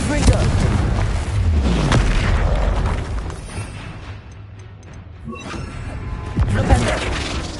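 A Confringo blasting spell bursts with loud, heavy booms and crashing debris in a Hogwarts Legacy battle on PS5, rumbling on through a chaotic fight with a voice nearby and fading before a fresh blast near the end.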